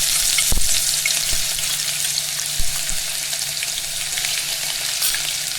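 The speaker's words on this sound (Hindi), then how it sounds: "इसे मैं 1 से 2 मिनट तक हल्का सा फ्राई करूंगी।" Crushed ginger and garlic fry in hot oil in a pan, giving a steady, close, hissing sizzle with a few soft clinks of stirring and no talk.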